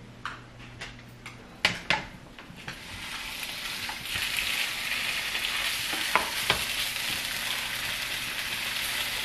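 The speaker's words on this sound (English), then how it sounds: "And we'll fry it up for a few minutes." Tofu hitting a hot pan and frying, a few sharp clacks of placing pieces at first, then a loud, steady crackling sizzle that swells and holds, close by.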